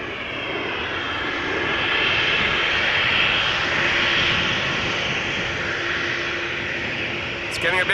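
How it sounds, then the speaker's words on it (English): An EasyJet jet departing Amsterdam Schiphol for Manchester, its engines giving a steady, loud, broadband roar that swells slightly mid-clip, with faint talk in the background. "there was still a departure taking place from center just now, so it's the EasyJet to Manchester"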